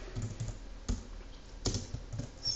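Quiet keystrokes on a computer keyboard come in short irregular taps, with a couple of firmer clicks, close and faint with no talk.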